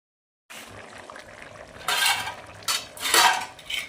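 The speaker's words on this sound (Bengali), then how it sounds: "এরপর দিয়ে দিচ্ছি ভাজি রাখা চিংড়ি মাছ।" Fried prawns go into a pot of jackfruit curry with a few close, bright clinks and clatters of a utensil against metal after a brief silence, with no speech.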